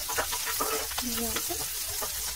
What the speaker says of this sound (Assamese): এতিয়া পাঁচফোৰণ অকণমান দিছো লগতে পিয়াজ জলকীয়া অকণমান ভাজি লম